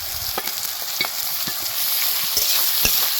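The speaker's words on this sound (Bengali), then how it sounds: "এবার টমেটো যত সময় না গলে তত সময় ভালো করে ভেজে নিতে হবে মশলাটাকে" Tomatoes and spices fry with garlic in a pan, sending up a dense, continuous sizzle with spoon-stirring taps recurring every half second or so, close and fairly loud.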